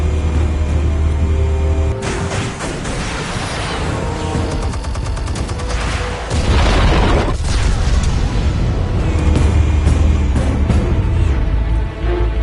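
Explosives detonate in Batman: The Telltale Series, opening with a sudden heavy blast that triggers a long roaring chain of booms and crackling debris, with another loud burst near the middle.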